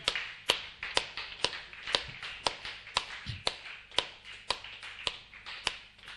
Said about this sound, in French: On acclame très fort pour cette louange qu'on vient de rendre à notre Seigneur Jésus.